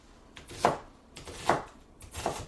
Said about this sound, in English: loose chop there on these onions